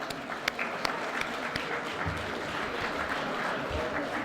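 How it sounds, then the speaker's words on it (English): Steady applause from a sizeable audience at an awards luncheon, a continuous wash of clapping heard from a distance with no voices on top. "Let's give them another big round of applause."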